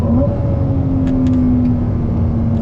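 A Ferrari 296 GTB's turbocharged engine drones steadily from inside the car, a loud low hum with a faint rising whine and no talk.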